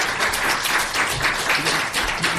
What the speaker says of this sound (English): Little applause.